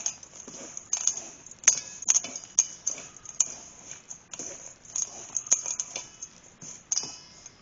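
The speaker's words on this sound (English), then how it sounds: "I'm going to just get our 1 cup of peanut butter chips, and let's just kind of stir those around" Peanut butter chips are stirred into a butter crisp topping in a bowl, giving faint, irregular clicks, light scrapes and soft taps of the utensil against the bowl, close by and quiet.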